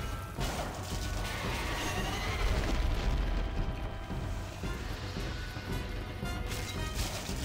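A fire-breathing enemy in Demon's Souls unleashes a sustained, roaring rush of flame, loud and close, with heavy rumbling crashes layered through the blast and no voices.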